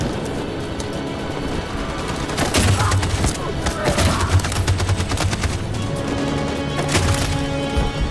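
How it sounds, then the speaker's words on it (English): Machine gun fire in the video game Detroit: Become Human, rapid bursts of shots cracking over a dense battle din with splintering impacts, loud and sustained throughout. "That machine gun is taking down everything that moves!"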